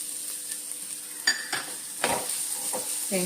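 Raisins and grated coconut fry in ghee in a pan, giving a steady soft sizzle with a few stirring scrapes and light clinks partway through.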